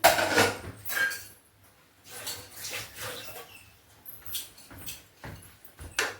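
A pressure cooker of goat leg curry is opened after its whistles, with scattered metallic clanks and lid clatter in short, uneven bursts, close by and moderately loud, with no voices.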